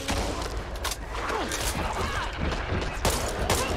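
Zombies firing guns in the video game Back 4 Blood: rapid, dense bursts of gunfire mixed with clanks and crashes, loud and continuous across the whole stretch.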